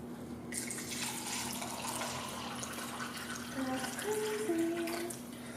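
Freshly poured Kangen water with a pH of 9.5 runs into a glass holding a green tea bag, a steady splashing pour whose pitch rises toward the end as the glass fills.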